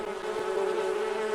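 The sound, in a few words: swarm of buzzing bees from a bucket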